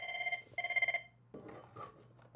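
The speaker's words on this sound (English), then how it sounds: "Our phone is ringing." A telephone rings indoors, two distinct bursts of a warbling electronic ring close to the microphone, followed by a moment of muffled room noise.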